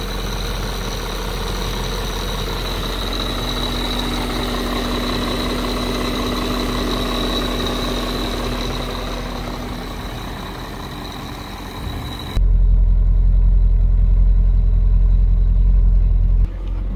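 A 2000 BMW E39 M5 V8 sits idling at full operating temperature on a hot day, a steady, close low rumble with a faint whine, holding even for about twelve seconds before a sudden louder low drone takes over.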